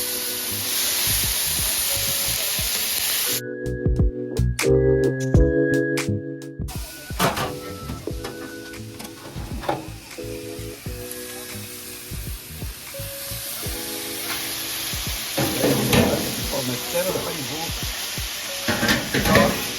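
Vegetables sizzle on a Blackstone griddle, a loud steady frying hiss throughout, broken by the scrape and clatter of a spatula folding the veggies, with brief talk partway through.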